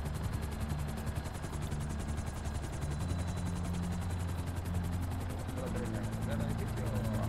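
A helicopter in GTA Online drones steadily with a dense, rapid rotor chop that holds at the same level throughout, loud and continuous with no pauses.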